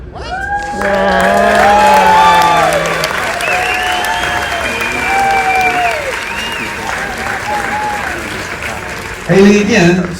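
An audience at a magic show claps loudly and steadily for about nine seconds, with whoops and cheers mixed in, then a voice speaks near the end.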